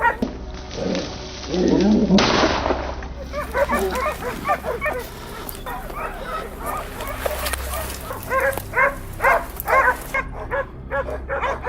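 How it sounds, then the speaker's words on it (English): Hunting dogs bark and yip in excited bursts while chasing a wild boar near a swamp, the calls coming in a busy, overlapping run with a brief whimper or two, close and fairly loud. "another boar was on the run, chased relentlessly by our dogs."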